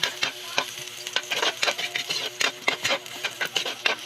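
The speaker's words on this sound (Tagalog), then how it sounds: "Saka magigisa tayo ng kanyang sauce. Sibuyas saka bawang." Onion and garlic sautéing for a spaghetti sauce, a steady close sizzle broken by repeated scraping and stirring strokes of a utensil against the pan, with no voices over it.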